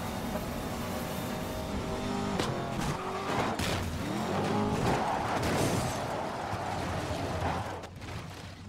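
A car races by at high speed, its engine note swelling and shifting, with tires squealing and hissing road noise over several seconds.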